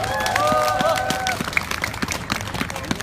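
Scattered handclaps ring out from an audience at a public talk by a Buddhist monk in Jinju, South Korea, loose and uneven rather than a full ovation, mixed with voices and crowd murmur.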